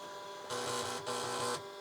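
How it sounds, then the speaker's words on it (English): Floppy drive formatting and verifying its disk, two buzzing mechanical bursts of seeking and grinding, each about half a second, separated by a short pause over a low steady hum, close and fairly quiet. "It's like trying to verify the floppy drive."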